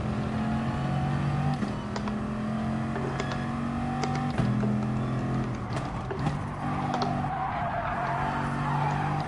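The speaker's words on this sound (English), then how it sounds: "Oh, I just can't stop skidding there." Tires skidding and squealing on a racing video game car, heard as sustained tonal squeals over a constant engine drone for several seconds, loud and continuous with no one talking.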